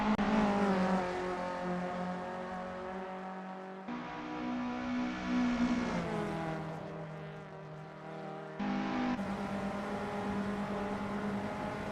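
VW Up race cars in the 2025 SRA VW Up Cup circling a track, engines droning loudly with shifting pitch as several cars pass and change gear, steady and continuous throughout.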